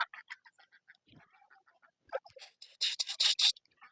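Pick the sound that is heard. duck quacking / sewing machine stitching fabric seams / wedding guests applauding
duck quacking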